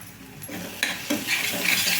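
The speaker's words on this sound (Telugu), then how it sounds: "మసాలాలు వేసిన తర్వాత ఒక సెకండ్ పాటు ఇట్లా కలుపుకోవాలండి" A spoon scrapes and stirs chili powder, coriander powder and garam masala in a hot pan for onion curry, a few close clinks over a low sizzle.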